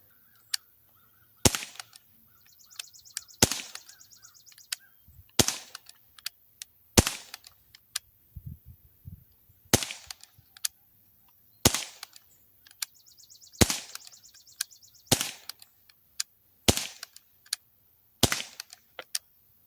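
An Umarex Smith & Wesson M&P 40 .177 CO2 air pistol fires about ten sharp, loud cracks, spaced a couple of seconds apart, with quiet handling noise between shots.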